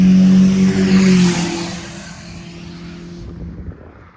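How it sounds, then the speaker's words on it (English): A small car's engine roars loudly up close with a buzzing drone, then fades as the vehicle drives past and away. "That was the loudest tiny car I've ever heard"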